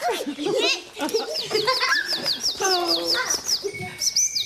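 A cartoon bird chirps and trills in quick repeated tweets while a voice talks and giggles over it, close and lively throughout.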